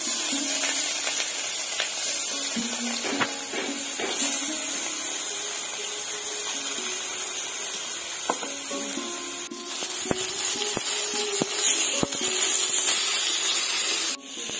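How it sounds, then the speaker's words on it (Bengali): Whole fish, marinated with coriander paste, fry in hot oil with a steady close hissing sizzle that grows louder partway through, broken by a few clanks of utensils. "তেলটা ভালো করে গরম হয়ে গেছে, মানে এক এক করে আমি সম্পূর্ণ মাছ ভেজে নিব।"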